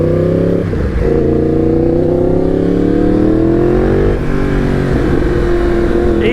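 A Yamaha MT-10 motorcycle accelerates hard, its engine note rising steadily through the gears with a brief dip around one shift, loud and close throughout with no talking.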